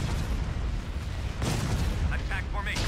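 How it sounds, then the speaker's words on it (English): Artillery batteries firing in the Star Wars: Empire at War space strategy game, a dense rumbling barrage of booms with a sharper burst partway through, continuous and loud, with speech mixed in. "All batteries commence firing."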